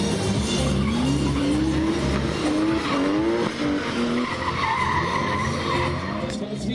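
Drift cars slide on wet asphalt at a show in Tyumen, a loud continuous engine roar with rising revs and tire hiss filling the whole stretch.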